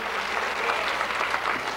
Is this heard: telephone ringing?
no